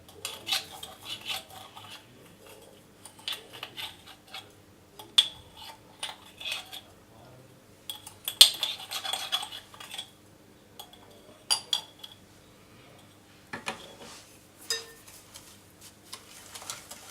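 Sponge cake batter of flour, cocoa and sugar beaten in a bowl, giving quiet irregular clinks and scrapes of utensil against the bowl with short louder bursts, no talking.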